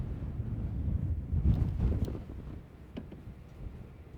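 Strong wind buffets the microphone over open fields during a spray drone flight with a DJI T100, a steady low rumble with gusts swelling and easing throughout.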